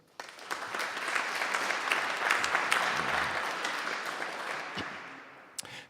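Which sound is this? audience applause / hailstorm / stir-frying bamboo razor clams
audience applause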